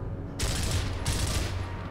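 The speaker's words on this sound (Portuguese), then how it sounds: "Tiro." Loud gunfire from a video game played on an Xbox One with a PS4 controller, with two sharp bursts of shots that ring into a dense, continuous roar of fire.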